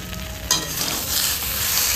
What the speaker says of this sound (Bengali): একটু ঢেঁড়স দিয়ে মাছ দিয়ে টক হবে, কাঁচা আমটাও দিয়ে দিয়েছি, একসঙ্গে ভেজে নিচ্ছি